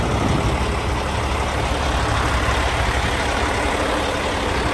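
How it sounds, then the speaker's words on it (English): A Peterbilt 389 truck idles close by, its exhaust giving a steady, dense broadband rumble that holds evenly throughout with no voices. "Nice exhaust."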